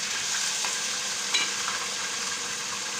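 Onions, ginger-garlic paste and tomatoes fry in a karahi, producing an even, continuous hiss of sizzling oil at moderate volume with a single faint clink partway through.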